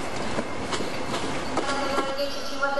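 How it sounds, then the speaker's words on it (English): A new Italian double-decker train arriving at a station platform rolls in with rhythmic wheel clicks, metallic squeals and brake hiss, heard at moderate distance through station ambience. "This is the train I went to Ravenna on. It starts from here, so it's arriving at the platform 1/4 hour early."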